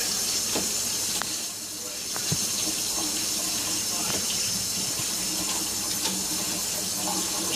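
Water from a kitchen tap runs steadily over canned beans being rinsed and drained, a constant close hiss with a few faint clinks and knocks mixed in.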